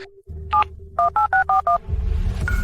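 Keypad tones as a telephone number is dialed: a brief tone, one beep, then a quick run of five evenly spaced button tones, followed by a rising hiss of line noise.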